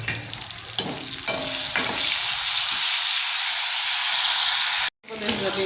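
Cumin seeds, green chillies and dried red chillies hit hot oil for a tempering, a loud, close hiss and sizzle with spoon stirring near the start and a brief drop near the end.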